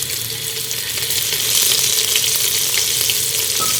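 Onion and garlic fry in a pan with a loud, continuous sizzle and crackle that swells a little midway, close-up and with no talking.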